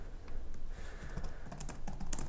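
Computer keyboard keys pressed while entering data in an Excel spreadsheet, a quiet stream of soft clicks, dense toward the end, over a low steady room hum.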